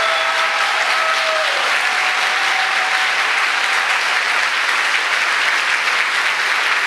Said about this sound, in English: So I applaud you guys.